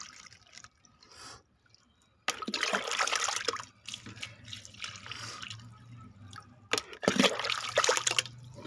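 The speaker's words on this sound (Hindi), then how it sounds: "इसमें से बाल्टी डाल के भर लेते हैं" Water pours in bursts from a bucket being filled, with a rushing, splashing sound, close by, stopping and starting a few times with quiet dripping between.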